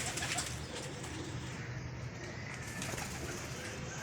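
Pigeons coo softly amid a dense, steady wash of background noise, with occasional faint flutters and chirps nearby.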